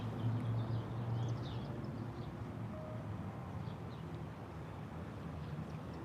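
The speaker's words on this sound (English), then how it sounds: "And there's this engine sound." A low, steady engine drone rumbles on throughout, moderately quiet with faint traffic-like hiss around it.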